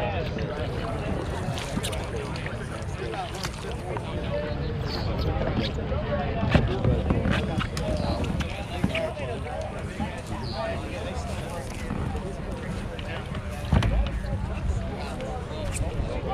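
A Pelican Catch 110 HYDRYVE pedal boat moves on the water at a trade-show water demo, with continuous splashing and churning plus occasional knocks, under steady conversation.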